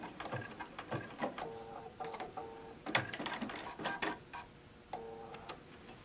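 A home sewing machine backstitching to lock a seam on a quilted tote bag binding, giving short bursts of rapid needle clatter and whirring motor, stopping and restarting, close and fairly quiet.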